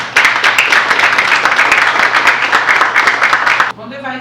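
An audience at a political movement meeting breaks into loud, dense applause that carries steadily for over three seconds before cutting off sharply as a voice begins.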